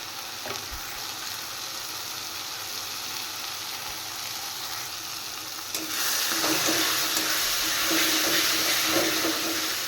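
Spice paste with salt and turmeric sautés in a pan, making a steady, close hissing sizzle that grows noticeably louder about halfway through as it is stirred, with no voices.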